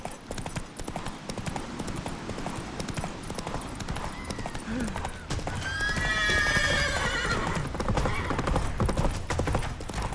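Roach, the horse in The Witcher 3, gallops with steady rapid hoofbeats and lets out loud whinnies midway through, over continuous game music and ambience.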